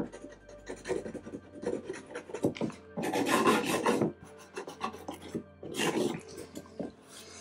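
A hand tool scrapes and rasps across a rub-on transfer to distress it for a vintage look, in repeated close rubbing strokes with louder bursts between quieter passes.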